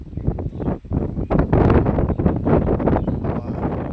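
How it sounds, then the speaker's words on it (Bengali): Strong wind during a storm under cloudy skies in Madaripur, Bangladesh roars and buffets the microphone continuously, loud and gusty with rough rumbling throughout. "এত জোরে বাতাস হচ্ছে।"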